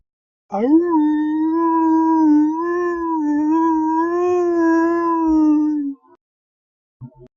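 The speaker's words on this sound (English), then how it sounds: "makes a howling noise for maybe 30 seconds or so" A Dalmatian lets out one long, steady howl lasting several seconds, loud and close, wavering slightly in pitch before stopping, followed by a brief faint sound.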